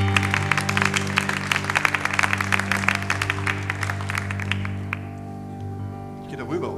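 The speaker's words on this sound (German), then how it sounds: "Hören wir einen kleinen Applaus für die charmanten Hostessen." Audience applause for the hostesses at a Central German broadcasting award ceremony, dense clapping that swells under sustained music and then fades away.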